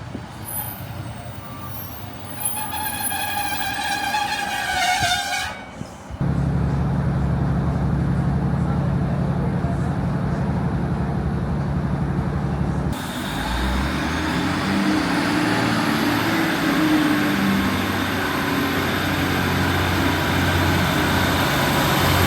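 A Northern train pulls into a station platform on the Mid Cheshire Line, with a loud, steady rumble and rising hiss building as it arrives, after a stretch of brief high beeping tones.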